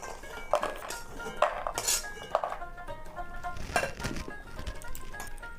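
Metal utensil scraping and clinking against a pan as fried lentil dumplings (bori) are lifted out for a vegetarian curry, a series of sharp scrapes and clinks close by with no talking.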